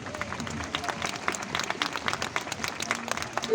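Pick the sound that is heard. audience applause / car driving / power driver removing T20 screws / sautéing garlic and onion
audience applause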